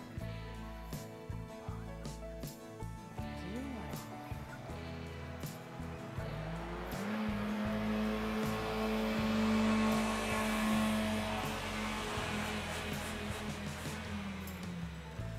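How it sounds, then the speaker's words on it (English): A car engine in poor condition idles and then revs, rising into a sustained higher whine before settling back, with rough uneven tone and no talking. "that engine does not sound good at all"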